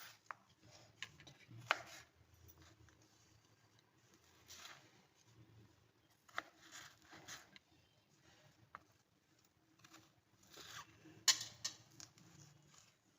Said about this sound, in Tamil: இதே மாதிரி ஃபிங்கராக எல்லாத்தையும் கட் பண்ணி எடுத்துக்க போகிறோம்